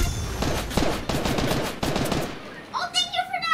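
Rapid automatic gunfire from Fortnite, several bursts of close shots for about two seconds, then quieter chirping game effects while a voice is faintly present.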